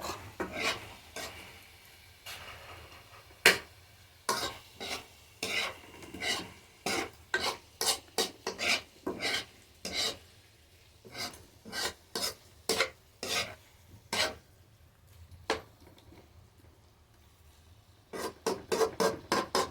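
Pork adobo sautéing in its own fat, with frequent sharp scraping strokes of a utensil against the pan in an irregular rhythm over a low sizzle, close and with no voices.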